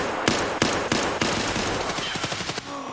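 Automatic gunfire in the shooter game Escape From Tarkov: a few loud, evenly spaced shots open a quicker run of bursts, close and sharp, with no talking over them.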